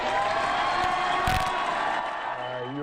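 A crowd of supporters cheers and whoops at a Ruben Gallego election-night rally in Arizona, a sustained, loud wash of voices with scattered shouts and a brief surge of louder cheering.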